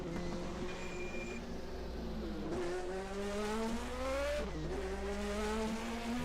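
1980 DRM Division 2 race cars drift through a hairpin and corners on an airfield circuit, engines droning and rising in pitch as they accelerate, with a brief tire squeal and a gear change partway through.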